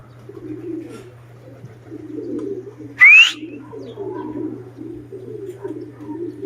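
Young racing pigeons sunning outside their loft coo softly in a low, pulsing murmur over a steady background hum, with one sharp bird chirp cutting in midway.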